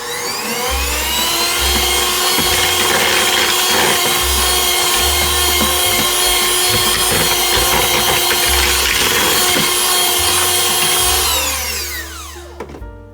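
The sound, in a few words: mixing shortbread dough with vanilla in a bowl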